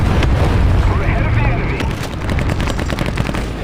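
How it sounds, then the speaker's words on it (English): Artillery fire and gunfire in the tank game War Thunder Mobile, with Japanese medium tanks in battle: dense, loud booms and sharp cracks come in a steady barrage over a rumbling low end, with a voice talking throughout. "Artillery fire."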